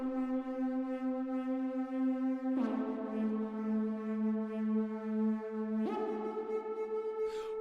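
Sustained, horn-like tonal sample treated with the Soundtoys PanMan auto-pan effect, holding long notes that shift pitch twice with soft attacks, fairly quiet and alone.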